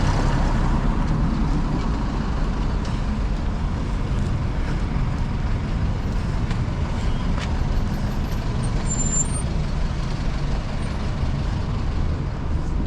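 Heavy street traffic in Bishkek, with buses rumbling past in a continuous low drone, steady and fairly close throughout, no voices heard.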